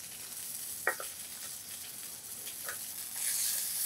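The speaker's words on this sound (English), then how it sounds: "Oh yeah, that's a sear." Food searing in a hot pan while a pan sauce is deglazed, a steady quiet sizzle with a couple of brief clinks and scrapes, the hiss swelling louder near the end.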